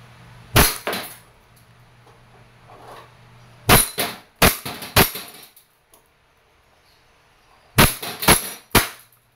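An E&C airsoft Glock 17 Gen 5 gas pistol fires a series of loud, close cracks, a single shot, then a quick cluster of three, then another tight group of three, with short quiet gaps between.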